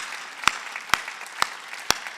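Church congregation at a Wednesday worship service clapping in unison, four sharp, evenly spaced claps about half a second apart, loud and close, with a low hum of room noise between them.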